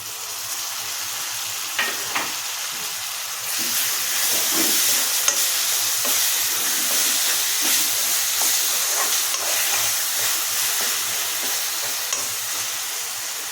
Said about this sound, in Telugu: కొత్తిమీర, పుదీనా, అల్లం వెల్లుల్లి, పచ్చిమిర్చి కలిపి వేసేస్తున్నానండి